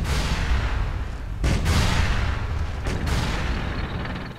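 Tanks fire on rebels in the city-building game Tropico 5, a dense rumble of booming cannon fire and crackling shots under low steady battle noise, with two sharp louder blasts partway through.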